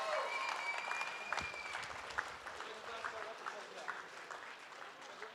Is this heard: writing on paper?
no